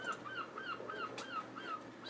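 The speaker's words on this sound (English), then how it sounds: "We've also got seagulls. They even sound like seagulls." Repeated squawking seagull cries in a quick regular series from Minecraft with the Oceancraft mod, heard alone at fairly low volume.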